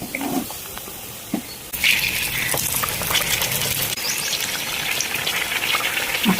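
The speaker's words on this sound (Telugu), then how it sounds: "ఆ మిరపకాయలు ఒక్కొక్కటిగా ఇందులో డిప్ చేసుకుని అందులో వేసేసుకుందాం" Stuffed chillies for Andhra-style mirchi bajji frying in hot oil, a quieter bubbling start giving way after a couple of seconds to a loud, steady crackling sizzle close by, with no talking.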